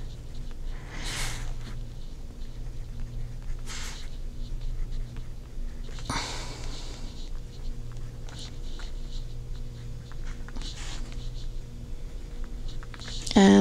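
A pen scratches out numbers in a paper weekly planner in short intermittent bursts of writing, quiet and close, over a steady low background hum.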